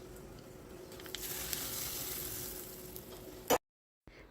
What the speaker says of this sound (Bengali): একটা তড়কা প্যানে কিছুটা তেল গরম করে 1 চামচ জিরে, হাফ চামচ সর্ষে ভালো করে ফুটিয়ে নিয়ে এই পেঁয়াজের মধ্যে দিয়ে দেব